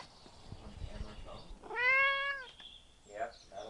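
A house cat lets out one clear, drawn-out meow partway through, close and fairly loud, with soft rustling and handling noises around it.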